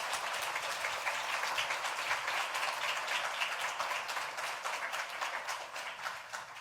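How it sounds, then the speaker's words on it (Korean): Congregation applauding during a Sunday church service marking the church's 34th founding anniversary, a steady, dense wash of many hands clapping throughout, moderately loud with no talk over it. "뜨거운 박수 한번 더 격려할까요?"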